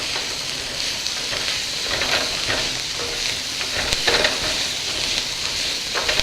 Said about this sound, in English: You want to kind of keep it moving when you're using a wok because you don't want it to burn.